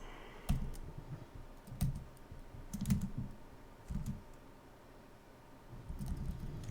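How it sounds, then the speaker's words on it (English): Fingers type on a computer keyboard in soft, irregular clusters of close keystrokes, with brief pauses between bursts in a quiet room. "So I'm going to type this out."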